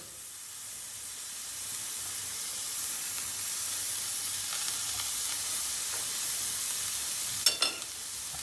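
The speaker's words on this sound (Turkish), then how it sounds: "Şöyle tereyağı bir erisin." Butter melting in a frying pan on a lowered stove flame, a steady soft sizzle and hiss running throughout, with a couple of brief sharper crackles near the end and no talking.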